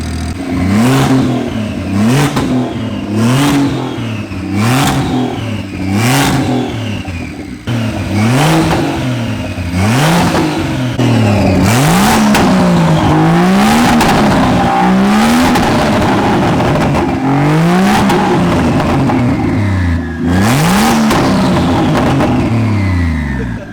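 BMW N54 engine fitted with a bottom-mount single turbo kit, revved hard again and again with rising and falling pitch sweeps, loud and close, with turbo whooshes and sharp blow-off bursts between revs.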